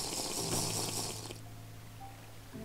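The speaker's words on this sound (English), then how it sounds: "Oh, it makes a water block sometimes." A splashing, watery gush as a water block appears in a video game, loud and steady for over a second before dropping to a quieter liquid trickle, with no talking.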